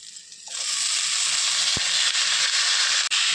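Spice paste hits a hot wok for fig curry and erupts into a loud, steady close-up sizzle after a quiet start, with a single sharp knock partway through.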